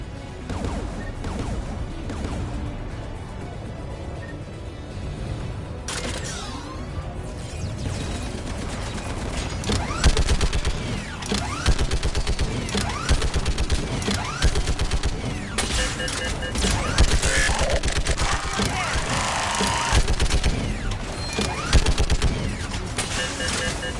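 Sustained gunfire in the Mass Effect 3 video game, with dense rapid bursts and crashing impacts rolling on continuously and loudly for over twenty seconds, building toward the end.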